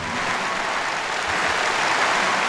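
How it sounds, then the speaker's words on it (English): Audience applause at a strongman deadlift competition between the UK and USA, loud continuous clapping and cheering from a large crowd across the whole stretch. "raise it up and give a round of applause for Nadia Stoltman."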